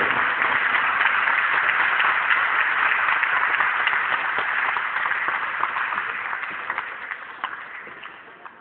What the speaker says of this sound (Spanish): a quien pido recibamos con un fuerte y caluroso aplauso